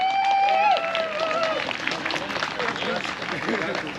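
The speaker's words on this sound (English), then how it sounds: "Let's give her a round of applause" An audience at an Indigenous Peoples Day event in Yellowknife gives a round of applause, with a whistle and hoots over the clapping, which fades gradually.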